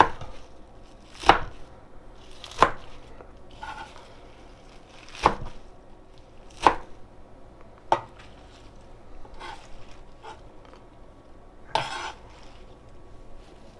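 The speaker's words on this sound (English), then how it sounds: "we're just going to chop it till we get bored" A knife roughly chops spinach on a board with sharp, separate thwacks spaced a second or two apart, close and moderately loud over quiet kitchen room tone.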